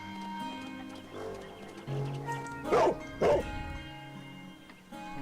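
A dog in Sherlock Holmes: The Devil's Daughter gives two short, sharp barks close by, over soft, sustained game music.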